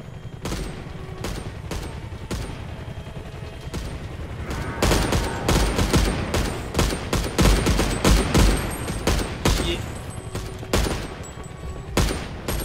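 Gunfire aimed at the player in a video game, with dense cracking shots arriving in uneven clusters over a steady background rumble, loud and close, heaviest in the middle.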